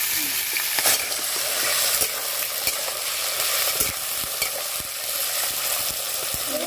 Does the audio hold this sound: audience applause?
no